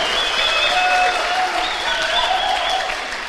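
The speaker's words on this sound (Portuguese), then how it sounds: "Aplauda Jesus" A church congregation at a Sunday worship service claps loudly and continuously throughout, a dense wash of hands with a few faint voices calling out underneath.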